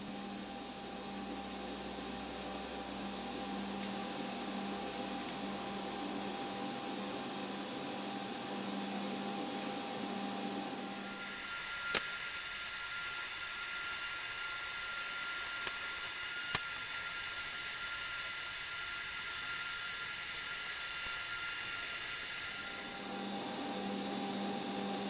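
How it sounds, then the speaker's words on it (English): A TIG welder fills a hole in a metal vise with a steady, continuous electric hiss and hum lasting nearly half a minute. The low hum drops away through the middle stretch, and there is no talk. "Now we're just going to weld it or fill it up with the TIG."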